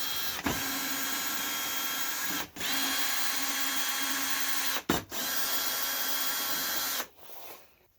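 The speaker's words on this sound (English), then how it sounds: "Now I gotta remove these T30 screws." Power drill or impact driver whirring steadily as it backs out T30 Torx screws on a VW B5 Passat, running in long continuous bursts with brief pauses between, close and loud.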